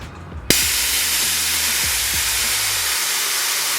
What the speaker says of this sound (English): I'm gonna start by obviously emptying out the tank so that I can maneuver easy